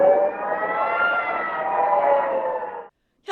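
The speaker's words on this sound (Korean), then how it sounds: "이스라엘 밤하늘에 수십 발의 로켓이 날아오고 공습 사이렌이 울립니다." Air raid siren in Israel during a rocket attack at night, a single steady wailing tone held loud for nearly three seconds before cutting off abruptly.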